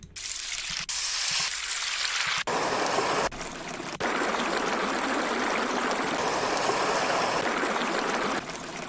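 A steady, dense rush of flowing brook water from a Future Bass Essentials sample pack plays loudly, broken by a few abrupt cuts and restarts.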